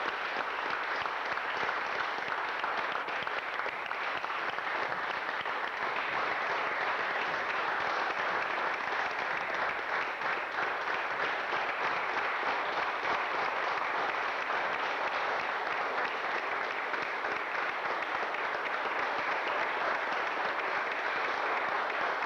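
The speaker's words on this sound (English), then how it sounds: "How about a round of applause for these people?" Sustained applause from an audience at a 1997 Lowell city council meeting, a steady dense wash of clapping that holds evenly for over twenty seconds with no talking.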